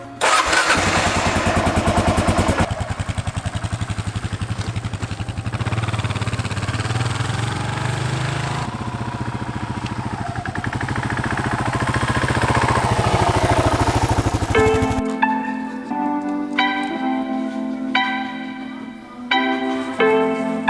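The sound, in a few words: Kawasaki KLR650 motorcycle engine starting and running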